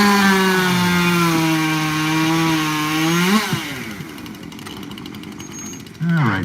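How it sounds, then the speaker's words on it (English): A chainsaw runs steadily with strong harmonic whine for about three seconds, then drops off and settles to a rougher, lower idle in the background before revving again at the end. "Oh, I hear Bodie's saw back there."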